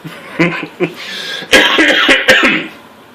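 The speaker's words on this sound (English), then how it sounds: "that cough should be gone soon, I hope" Several close, raspy coughs and throat clearings come in a short burst, the last ones harsher and louder.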